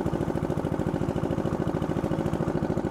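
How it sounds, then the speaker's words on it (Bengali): A houseboat engine runs steadily on Tanguar Haor, a close, loud, rapid mechanical chugging with an even pulsing rhythm throughout and no voices. "ইঞ্জিনের অনেক সাউন্ড।"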